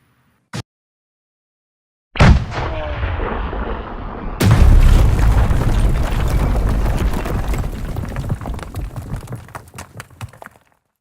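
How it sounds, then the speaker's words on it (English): A bomb explosion sound effect played on a live entertainment show: a brief click, a pause, then a heavy boom that rolls into a long, crackling rumble of debris, fading out over several seconds. "There's a bomb."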